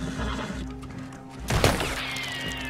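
A horse whinnies in the Red Dead Redemption 2 video game, one sharp burst midway over a low steady hum, with a faint trailing tonal sound and soft hoof-like thuds; no talk.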